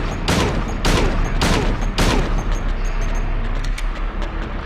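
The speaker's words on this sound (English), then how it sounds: "Oh man, I went through 20 bullets." Gunfire in the PS2 game Silent Hill 2, four heavy booming shots in quick succession followed by a rumbling, echoing tail, loud and close with no voices.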